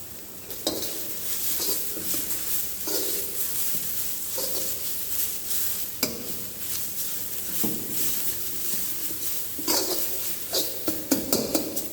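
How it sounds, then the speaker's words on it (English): Onion slices, capsicum and beans are stir-fried in a pan for veg spring rolls. A soft sizzle runs under repeated scraping and clattering strokes of a spatula against the metal pan, and no one speaks. "We'll add onion slice, capsicum and beans. This method is called as stir fry."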